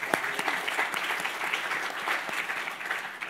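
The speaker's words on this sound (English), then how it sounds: "Let's give her a round of applause." A conference audience claps for a panel speaker at a government digital services summit, a moderate, even patter of many hands that carries on steadily from start to finish.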